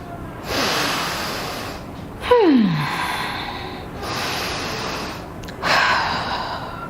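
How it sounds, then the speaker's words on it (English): Long, deep breaths taken as a relaxation exercise, with several slow, audible inhales and exhales in a row, close and fairly loud, and a short gasping intake partway through, with no talking. "This is long, deep breathing."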